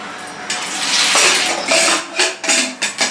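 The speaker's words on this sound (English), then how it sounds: "So I'm putting the chana dal, 8 cups of water." Water is poured onto chana dal in a pressure cooker, a loud, close splashing pour with a few clinks and knocks of cookware as it ends in short bursts.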